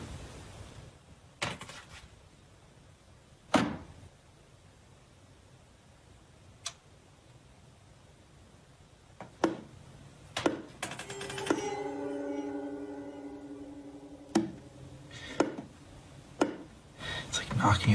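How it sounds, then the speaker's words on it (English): Sharp, irregular knocks or taps on a door in a house, several isolated raps spread across the stretch with quiet gaps between, plus a longer scraping, creaking passage partway through. "It's like knocking at the door."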